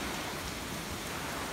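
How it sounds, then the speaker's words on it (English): Steady hurricane rain from Hurricane Irma in Florida, a dense broadband hiss of drops pattering on surfaces, continuous and fairly close, with no talk. "The rain isn't that bad,"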